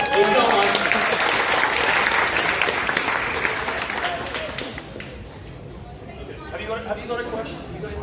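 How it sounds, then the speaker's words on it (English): A crowd at a gaming creators' studio gathering applauds, a loud dense burst of clapping with chatter that fades after about five seconds, leaving voices talking over lighter background noise. "Everyone give a round of applause."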